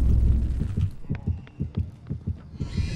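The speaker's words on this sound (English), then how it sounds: "Heartbeat." A rhythmic heartbeat thumps in the Dead by Daylight game, several low, evenly spaced pulses that play alone and fairly loudly.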